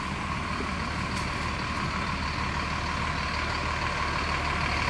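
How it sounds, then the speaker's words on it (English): A Coca-Cola delivery truck in a parking lot gives off a loud, steady engine rumble and broadband noise that runs without a break, with a faint beep or two near the start. "There's the Coca-Cola truck."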